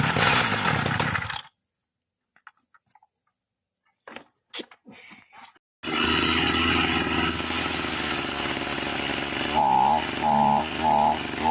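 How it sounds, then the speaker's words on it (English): A loud, droning large power drill boring a 2-inch hole in wood runs close by, cuts out, then roars back steadily with its pitch wavering as it bites and starts getting stuck. "It takes a heck of a drill to get that through this wood"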